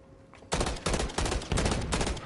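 Rapid bursts of automatic gunfire in Modern Warfare 3, four or five loud, sharp volleys in quick succession after a short quiet lead-in, close and dominant with no talking.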